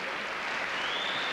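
Steady, dense applause from a gymnastics arena crowd at the men's European Championships, a continuous wash of clapping filling the whole moment without a break.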